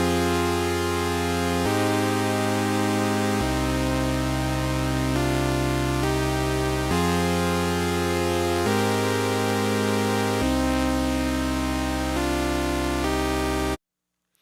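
Synthesizer on an initialized patch running a MIDI sequence: a loud, buzzy, sustained tone shifting through a slow series of held chords every couple of seconds, cutting off sharply into silence at the end.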